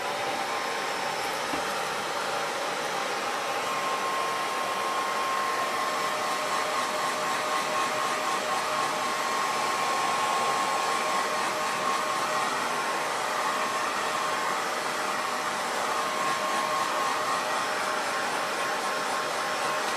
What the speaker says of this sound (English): I'm going to hit this with the blow dryer so we can get it to dry real quick.